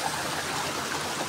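Water flows continuously at a spring water source, a steady close rushing and bubbling with no pauses and no voices.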